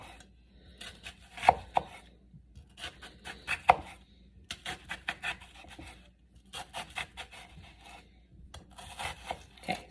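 A knife chops through an onion on a cutting board in quick close bursts of sharp taps, groups of rapid cuts separated by brief pauses.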